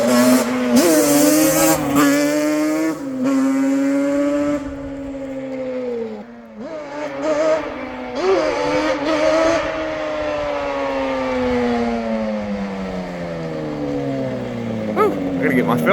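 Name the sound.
dirt bike with swapped GSXR1000 engine running and revving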